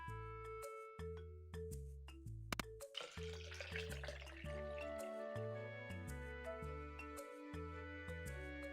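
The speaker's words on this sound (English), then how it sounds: "That pouring sound did not sound like wine." A drink pours in Stardew Valley, splashing and trickling like boxed apple juice from a spout, a brief wet burst over steady game background music.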